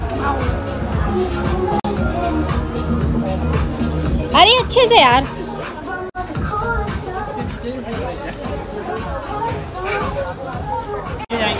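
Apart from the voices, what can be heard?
crowded shopping mall during Diwali sale, people chattering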